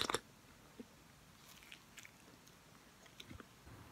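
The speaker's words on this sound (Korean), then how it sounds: "토스트 먹을 거예요." Bites of ham and cheese toast eaten at home on a rainy morning: one crisp crunch at the start, then faint, sporadic close-up chewing and small crunches in a quiet room, with no talking.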